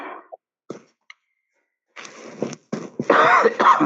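Someone with a cold, after drinking cold and hot water, gives a few short, sharp coughs, falls briefly silent, then breaks into a harsher run of coughing and throat clearing, close to the microphone.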